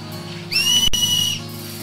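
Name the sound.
character whistling to cheer Blitz players, video game Final Fantasy X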